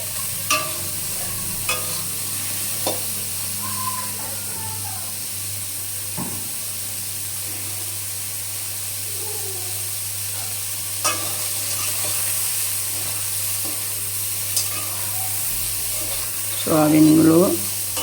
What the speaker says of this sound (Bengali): আমার প্রায় সয়াবিনগুলো ভাজা হয়ে এসছে।